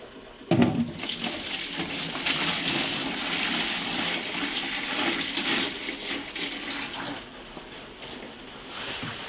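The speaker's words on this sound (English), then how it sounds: "Pour it again into the bucket." Acid is poured into a bucket in a continuous splashing liquid gush, opening with a sharp knock and then a steady, fairly quiet pour lasting several seconds.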